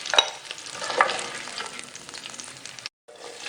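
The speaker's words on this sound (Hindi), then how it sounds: "थोड़ा फ्राई करते हैं ऑयल में।" Meat for Kabuli pulao fries in oil with a continuous close sizzle and crackle, punctuated by stirring scrapes and a brief drop to near silence near the end.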